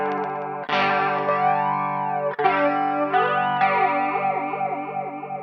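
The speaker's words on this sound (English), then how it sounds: "you get to hear the range of the chorusing until it moves over to flanger" Distorted electric guitar through a Hughes & Kettner Switchblade amp, its modulation sweeping from chorus into flanger, sustained chords swirling with a rising, jet-like whoosh, loud and close without talk.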